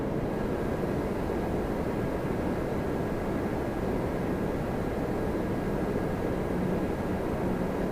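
An Air Canada Boeing 787-8 Dreamliner arriving from Heathrow at Toronto Pearson gives a steady, broad jet roar that holds loud and unbroken throughout, with no voices.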